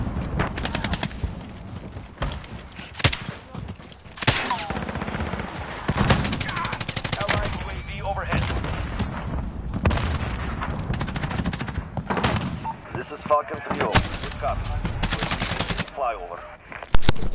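Video game gunfire in an online match, long bursts of rapid automatic fire and scattered heavy shots and booms, loud and almost continuous, with a voice talking over it at times.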